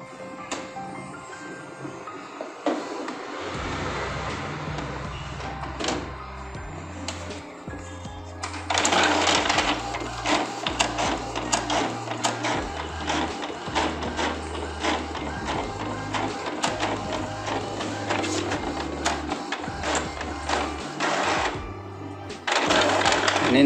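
A desktop printer prints book pages, whirring and clicking mechanically at close range, with a louder run of rhythmic feed and print-head rattling in the middle and a voice speaking intermittently throughout.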